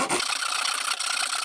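A hand saw cuts a wooden plug flush with the surface in a steady, close rasping stroke that runs continuously for the whole moment, with no talking.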